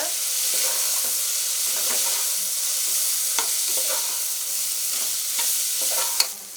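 Masala for vegetable biryani, with garam masala added, gets stirred in a frying pan, a continuous sizzle broken by repeated scraping sweeps of the spoon, close and steady, with no talking.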